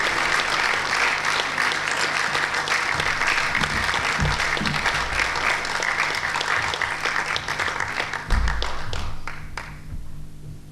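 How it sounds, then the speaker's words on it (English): An awards-ceremony audience applauds Martin Halliday from Lowestoft with sustained, dense clapping and a few heavier thumps, tapering off near the end. "So Martin, let's give him a nice round of applause"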